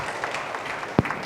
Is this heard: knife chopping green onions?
no